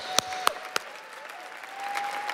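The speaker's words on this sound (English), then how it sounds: "an applause" A crowd applauds steadily, with a few sharp louder claps standing out early on, then continuous clapping that swells slightly toward the end.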